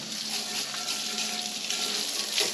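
Steady rushing spray of water hitting a Harley-Davidson Street Glide ST motorcycle during a wash, a continuous hiss that stays even and fairly close throughout with no talking.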